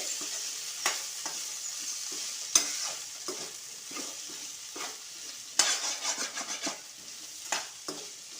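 Potatoes and peas for a wedding-style masala roast in a pan with steady sizzling and frying, while a spoon stirs and scrapes in irregular bursts, close up and with no talking.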